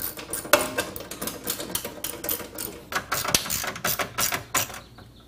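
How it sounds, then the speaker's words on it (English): A 10mm socket ratchets rapidly while tightening a heat shield bolt on a Ford Mustang, giving a fast string of close metallic clicks with brief pauses. "Now take your 10mm socket and reattach this bolt on the driver's side of the heat shield"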